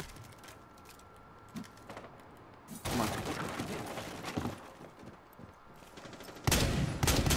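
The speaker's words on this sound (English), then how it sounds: "Oh, that's a shotgun." Shotgun fire in Rainbow Six Siege arrives as loud, sudden broadband blasts that cut in over quieter game background clatter, with a second burst near the end.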